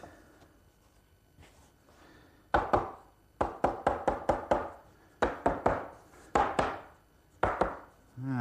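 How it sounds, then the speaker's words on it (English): A wooden tenon being knocked at the corner while fitting a joint for a computer desk, a series of sharp close wooden blows in quick bursts of three to five, separated by short pauses. "just knock the corner off of the tenon a bit"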